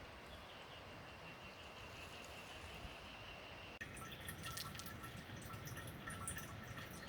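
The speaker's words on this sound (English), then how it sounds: "The lifesaver is dripping water into the storage containers." Steady soft trickle of water dripping from a Lifesaver water filter into storage containers, with a faint hum, continuous throughout and slightly louder in the second half.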